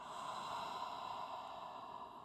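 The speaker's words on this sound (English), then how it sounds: "Open the mouth, fogging out." A slow open-mouth fogging exhale from an Ashtanga yoga breathing exercise: one soft, sustained, breathy rush of air, close and quiet, with no talking.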